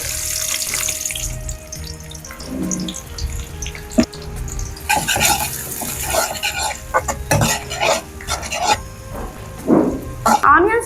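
Thinly cut dondakaya (ivy gourd) frying in a little oil in a pan, a continuous sizzle broken by stirring scrapes and clatter, close and loud, with some watery hiss mixed in.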